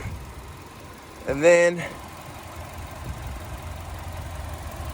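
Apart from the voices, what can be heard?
Chevy Spark 1.4 liter Ecotec 4-cylinder engine idling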